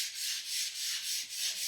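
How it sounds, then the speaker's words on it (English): A 220-grit sanding block rubs back and forth across a surface in quick, even strokes, about six passes in under two seconds, soft and close with no voices. "I'm going to take a sanding block to this."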